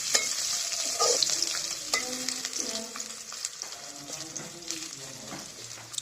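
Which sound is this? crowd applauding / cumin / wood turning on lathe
cumin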